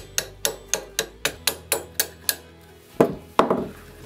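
Gentle metal taps knock the front sight off a rifle during a gas piston build, about eight evenly spaced sharp taps followed by two heavier knocks, close and clear with no talk.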